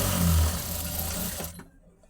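A sewing machine stitching a lined blouse runs in a steady, loud mechanical whir for about a second and a half, then stops abruptly and leaves near silence.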